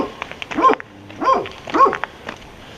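A patou mountain guard dog in the Pyrenees gives three deep barks spaced about half a second apart, fairly close, outdoors on a mountain trail.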